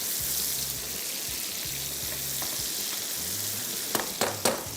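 Chicken pakora sizzles in hot oil, a steady close crackle that runs through the whole stretch, with a few sharp clinks toward the end.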